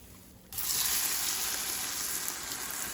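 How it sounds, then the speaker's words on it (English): Quiet at first, then a sudden steady sizzle bursts in and continues evenly, chicken curry sizzling in a hot pot with the heat turned off. "It's sizzling a good bit there, but I do have the heat off."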